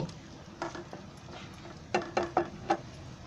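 A spoonful of spice masala sizzles in hot oil in a pan, a faint steady fry under a few sharp metallic stirring scrapes and taps of a spoon on the pan, with no talk.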